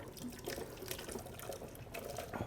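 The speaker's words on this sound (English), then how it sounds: "we're going to pour it into this blender" Liquid pours steadily into a blender with splashing and sloshing, close and moderately loud, no voices.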